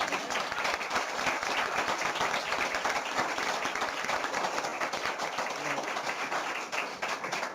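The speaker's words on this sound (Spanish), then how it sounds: "así que... Un aplauso." An audience at a public talk breaks into sustained applause, a thick, continuous wash of many hands clapping close by, holding steady for over seven seconds before easing slightly at the end.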